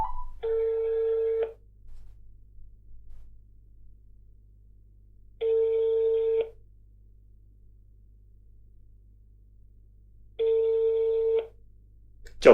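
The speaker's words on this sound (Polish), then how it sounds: "Dzwonię do producenta, znaczy dystrybutora." A telephone rings back three times at even intervals, each long tone followed by a few seconds of silence, heard clearly through a speaker.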